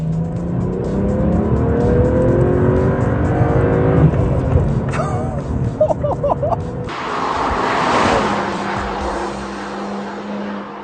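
A 1 Series with M-car performance and bazooka exhausts roars loudly and continuously, its engine revving and shifting pitch, with a change in character about two-thirds of the way through.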